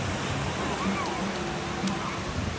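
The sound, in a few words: big ocean waves breaking on the beach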